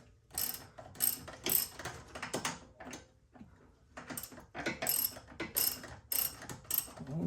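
A socket ratchet clicks in quick bursts while loosening camber arm bolts on a Tesla Model X suspension, with short pauses between the ratcheting runs, close and fairly loud.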